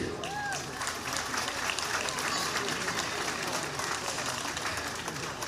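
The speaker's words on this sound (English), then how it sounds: "Round of applause, thank you." An audience at the presentation after the Galway senior hurling final between Loughrea and St Thomas claps for the ground staff, a steady, moderately distant patter of applause with talk running underneath.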